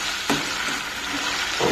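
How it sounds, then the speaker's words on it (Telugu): Red chillies, curry leaves, cumin, chana dal and urad dal sputter in hot oil as a tempering, a loud continuous sizzle close by with a couple of stirring scrapes. "పోపు మంచిగా వేగేటట్టు చూసుకోవాలి"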